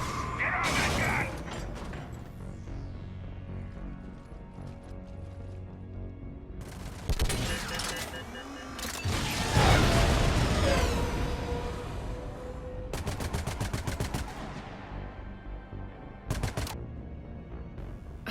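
Gun turret firing in Mass Effect 3, bursts of rapid mechanical gunfire and heavy clanking interspersed with booms and rumbling battle noise, loud and close in several separate volleys.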